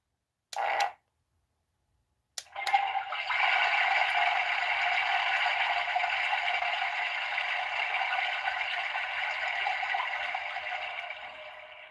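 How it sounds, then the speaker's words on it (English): A short electronic blip, a pause, then a long, steady rushing toy toilet flush sound effect that continues evenly for about nine seconds. "even the flush is surprisingly long"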